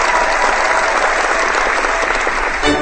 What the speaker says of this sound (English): Oh, applause. Yeah, somebody does the applause.